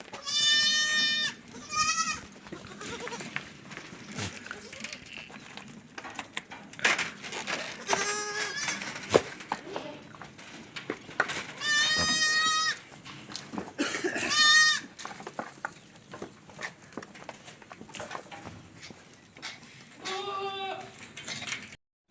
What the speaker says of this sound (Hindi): यहाँ पे जो पूरी प्रेग्नेंट बकरियाँ हैं